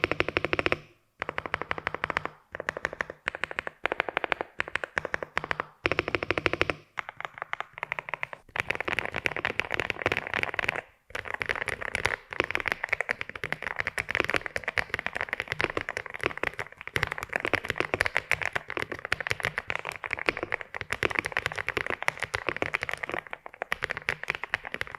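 Rapid, dense clatter of keys on a Freeflow Acorn mechanical keyboard fitted with Eggstone switches, a steady stream of sharp clicks with a few brief pauses, close and loud with no talking.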